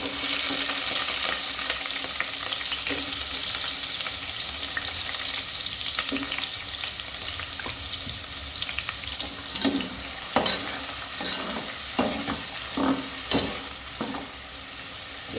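Onions sizzle loudly in hot oil for fried rice, a dense steady frying hiss, with rhythmic spatula strokes scraping the pan toward the end and no speech.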